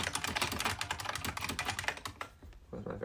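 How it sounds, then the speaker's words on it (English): Fast, continuous clattering of keystrokes on a very loud computer keyboard, close and sharp, with a few pauses near the end and no talking. "With my very loud keyboard."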